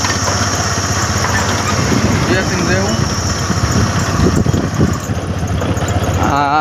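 A motorcycle idles and runs on a rough, broken village road under construction, a steady engine rumble heard close, with people talking over it.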